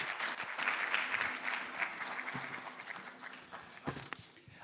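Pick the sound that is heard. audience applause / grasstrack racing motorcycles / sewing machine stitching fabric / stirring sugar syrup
audience applause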